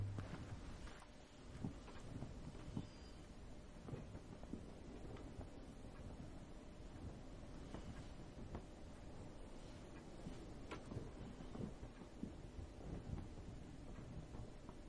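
Steady wind gusting across an exposed area in the video game Heaven's Vault, a continuous low rushing roar with occasional soft thumps, moderately loud and unbroken, with no talk over it.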